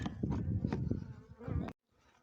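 Honey bees buzzing around a rock hive during a difficult honey harvest, a close, steady insect drone that cuts off abruptly near the end, leaving only faint background.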